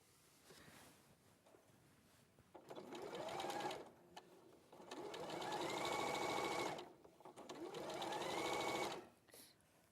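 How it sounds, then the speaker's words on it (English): A sewing machine top stitching a dress seam runs in three steady, close bursts of whirring needle action, each lasting a couple of seconds, separated by short pauses. "And I'm going to top stitch it again so that the seam is pushed towards the centre back."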